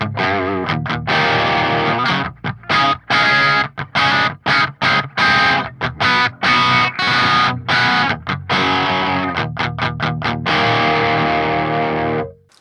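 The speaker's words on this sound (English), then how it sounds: "Let's check it out with overdrive in front." An overdriven electric guitar with an overdrive pedal in front of a PVY Vector amp simulation in STL Tones Tonehub plays metal chords and riffs with crunchy, driven tone, strummed in bursts with short gaps, ringing out at the end.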